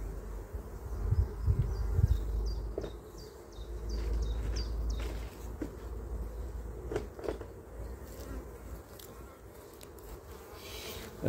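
Honey bees hum and buzz around a hive frame resting on a frame holder, a close, continuous drone with scattered knocks and rustles of handling mixed in.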